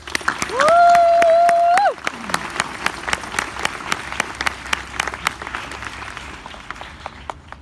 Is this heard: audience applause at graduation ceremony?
yes